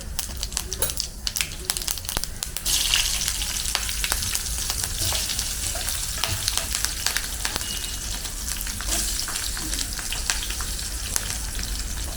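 Hot oil frying food for a chole chana dish, with dense continuous sizzling and crackling at moderate level, plus occasional stirring clatter and brief background voices.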